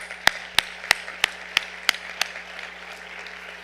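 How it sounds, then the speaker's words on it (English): Sparse, sharp claps at a youth service awards program, about seven distinct hand claps spaced evenly and then fading out, close and crisp over a quiet room hum, with no talking. "I'd like to give them a round of applause."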